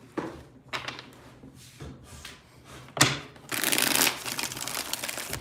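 Tarot cards being shuffled by hand during a reading, several bursts of riffling and sliding close up, quiet at first, then a longer, louder flurry near the end, with no voices.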